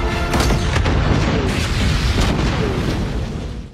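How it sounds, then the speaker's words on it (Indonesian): A fuel drum and a control room blow up in an action film set on an icy mountain road. The result is one loud, deep, rumbling explosion that roars for several seconds before easing off at the end. "Danny menembak drum bensin dan meledakkan ruang kontrol tersebut"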